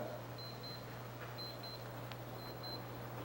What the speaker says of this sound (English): I don't know why this is beeping.